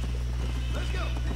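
A horse galloping in the Red Dead Redemption video game, steady rapid hoofbeats with a brief whinny, heard under continuous talk.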